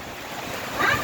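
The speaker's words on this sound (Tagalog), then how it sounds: "Lakas ng hangin oh." Strong typhoon wind buffets the microphone in a steady roar, swelling louder toward the end of the brief moment.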